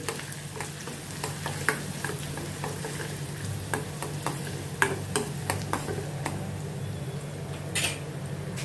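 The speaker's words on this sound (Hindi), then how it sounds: "एक छोटा प्याज कटा हुआ डालती हूँ। इसको मैं थोड़ा सौते करूँगी।" Chopped onion sautés in a hot pan for a dum aloo dish, with a steady low sizzle beneath frequent sharp clicks and scrapes from a spoon stirring against the metal, close and continuous.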